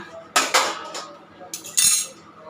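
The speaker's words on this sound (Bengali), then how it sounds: "এখন দেখবো ঢাকনাটা তুলে দেখি আমার বিরিয়ানির কি অবস্থা।" A metal lid lifted off a cooking pot of biryani, two clanking bursts of metal on metal about a second apart, close and fairly loud, with quiet in between.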